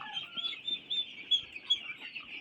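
Turkey chicks kept alongside a young local chicken chirp continuously in thin, high peeps, a busy overlapping chorus at close range with no talking.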